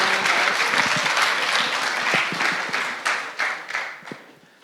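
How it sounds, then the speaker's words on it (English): Audience applause at a data competition finale for a competing team: a loud, dense wash of clapping that holds steady, then thins into scattered claps and fades out. "Applause to the team 5."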